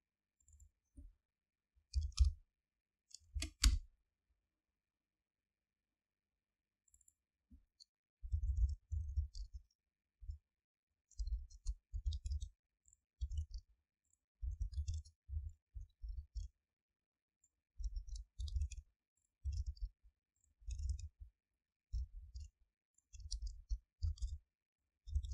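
Sharp computer mouse clicks, mostly in quick single and double taps, come at irregular intervals against near silence, close and fairly faint.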